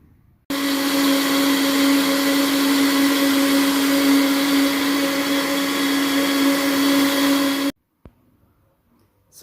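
A blender whirs steadily and loudly for about seven seconds, mixing lemon cake batter with milk, then cuts off abruptly into near silence.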